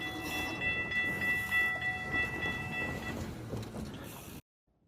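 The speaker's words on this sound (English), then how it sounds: "You just saw the GO train" A Toronto GO commuter train passes at a distance on a city street, a steady rumble of rail cars with a sustained tonal horn or whistle-like ring over the first few seconds, then ending abruptly.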